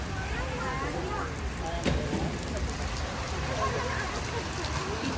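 Heavy rain pours steadily at a water theme park, a dense even hiss of rainfall close by throughout.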